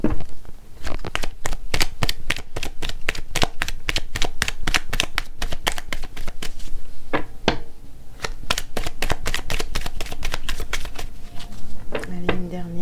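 Tarot cards being shuffled by hand, a fast steady riffle of crisp card slaps running nearly without pause from start to end, close and loud, with someone speaking French over it.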